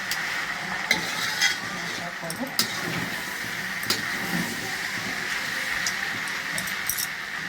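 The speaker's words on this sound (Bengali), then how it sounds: "তো এর মধ্যে আমি কিছুটা টমেটো এখন দেব" Tomatoes hiss and sizzle in a hot pan while being stirred, with scraping clinks from the utensil over a constant frying noise.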